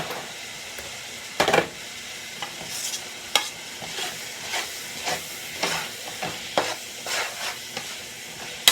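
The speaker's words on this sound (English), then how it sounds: "Let's see once these onions fry up a little bit." Onions fry for a Brunswick stew in a pot while a spoon stirs, sharp scrapes and clanks against the pot rising over a soft, steady sizzle.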